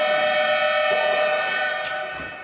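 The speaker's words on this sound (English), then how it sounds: "whistled for that foul" A referee's whistle sounds during a professional basketball game between Baskonia and Maccabi Tel Aviv, a loud sustained shrill tone held for about two seconds over crowd noise before fading.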